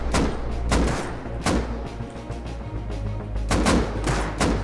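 Gunfire in the survival game Rust: a handful of sharp, loud shots in irregular bursts, spaced apart with brief pauses, over a low steady rumble of ambience.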